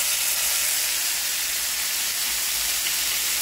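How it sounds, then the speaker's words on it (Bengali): Chicken pieces shallow frying in hot oil, a loud, steady, close sizzle and hiss that holds evenly throughout with no talking. "এবার আমি শ্যালো ফায়ার করে চিকেনগুলো 1 by 1 ঢেলে নিই"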